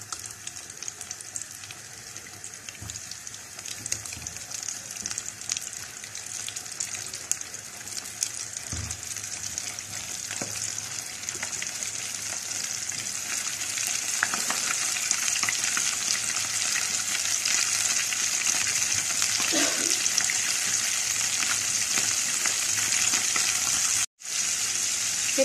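Chicken deep-fries in plenty of oil, making a dense, even hiss of bubbling fat that swells gradually and stays loud and close throughout, with a few faint knocks, then a brief cutout near the end.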